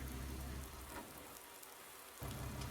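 Steady rain in Farming Simulator 19, a dense, even hiss of drops on surfaces that dips briefly in the middle and swells back, with no voices.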